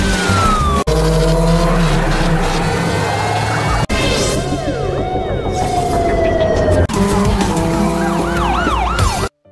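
Police sirens wail and whoop loudly through an Indian film motorcycle chase, layered over engine roar, with heavy crashes and impacts cutting in several times.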